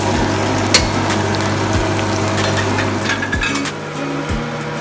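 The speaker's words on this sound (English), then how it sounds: "and fry them little time until it's becoming soft" Tomato and carrot frying in a pan for Arabic Bukhari rice, giving a steady, fairly loud sizzle with a low pump-like hum underneath and a few faint clinks, with no talking.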